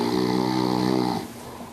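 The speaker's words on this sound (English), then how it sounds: "Snoring is really the sound that is made by the upper airway muscles when the airway is collapsing." A single loud, close snore from a sleeping person, a rough buzzing inhale lasting about a second before breaking off into quiet breathing.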